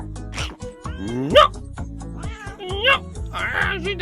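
Cats meow repeatedly in several rising, drawn-out cries mixed with other voices and sounds, fairly close and varying in pitch.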